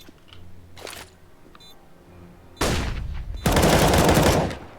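Gunfire on the Overpass map in a Counter-Strike match: a few faint clicks first, then a loud burst of rapid automatic fire, a short gap, and a second, denser burst that cuts off sharply.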